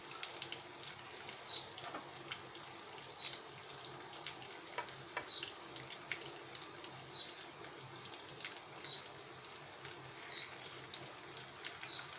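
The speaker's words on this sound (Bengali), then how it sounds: "এটা এক পাশ ভাজা হলে আমরা আরেক পাশ ভেজে নেবো" Pieces of teasel gourd (kakrol) fry in oil in a pan, a faint, steady sizzle with soft rhythmic spatters and no voices.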